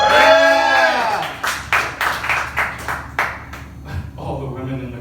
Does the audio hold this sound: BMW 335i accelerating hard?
no